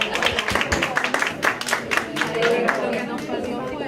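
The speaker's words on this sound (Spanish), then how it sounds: "Aplauso, por favor." An audience at an academic symposium claps in a scattered, crisp applause of many hands, with crowd chatter and speech beneath it.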